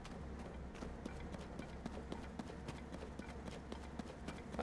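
A skeleton horse's hooves clip-clop in a steady, rapid rhythm as it travels at pace in The Legend of Zelda: Tears of the Kingdom, fairly close and continuous over a low background rumble.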